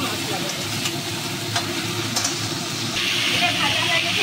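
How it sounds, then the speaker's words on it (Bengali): Leafy greens cooked with a fish head fry and get stirred in a pan, giving a loud, close, steady sizzle with occasional scraping clicks from the stirring and a brighter hiss toward the end. "এটা আমি নেড়ে নেড়ে ভালো করে একটু ভেজে নেব"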